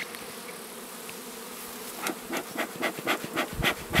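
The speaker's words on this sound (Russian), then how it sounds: "Пчел встряхиваем таким вот движением" Honey bees buzz as they are shaken off a honey frame during honey extraction, a faint hum that swells into a series of rhythmic, louder buzzing bursts toward the end, close by and with no talking.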